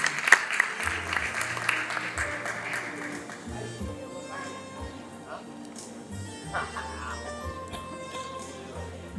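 Applause from an audience at a school graduation ceremony, louder at first and then fading to scattered clapping, with voices and other noises mixed in.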